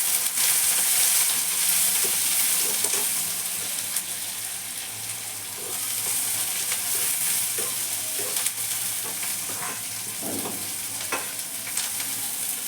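Chopped onions frying in a pan for an okra curry, a steady sizzle with repeated scraping and stirring clatters, fairly close and with no talking.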